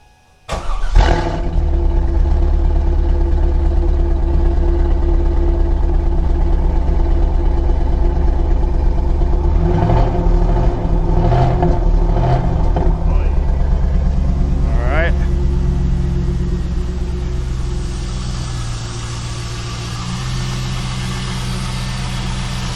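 A fourth-generation Chevrolet Camaro SS V8 with a Volant exhaust fires up from cold with a sharp crank and catch, then settles into a loud, deep, rumbling idle that stays close and steady, with a couple of blips before easing slightly lower.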